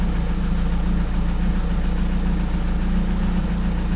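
Car engine with an ME221 ECU held steady against its launch control limiter at about 2000 RPM, a loud, continuous low throbbing drone with steady pulsing and no voices over it.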